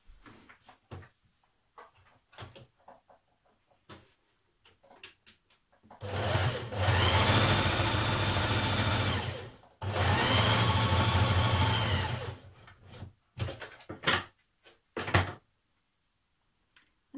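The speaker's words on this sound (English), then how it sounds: "you can stitch up each side a few millimetres away from the edge" Sewing machine stitching along both sides of a strip for a Burda 6241 skirt, a few millimetres from the edge, in two steady runs of about four and three seconds separated by a short pause, with small handling clicks before and after.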